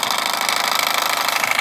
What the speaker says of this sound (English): the mixer's actually running the right way around